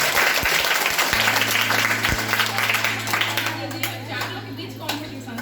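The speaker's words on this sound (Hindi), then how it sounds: "ताली बजाओ।" A school audience applauds the winner of a children's cabinet election, named sports minister, with a broad, sustained roar of many hands clapping, while a steady electronic hum and scattered thumps sit beneath the clapping.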